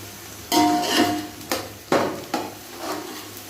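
Whole garam masala spices drop into a pan of frying onions, bringing a soft sizzle and several clanks of a spoon striking the pan at close range.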